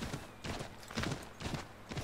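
Rhythmic hoofbeats of a horse galloping in the video game Assassin's Creed 3, steady repeated thuds at a quick pace, moderately loud with a muffled, synthetic quality.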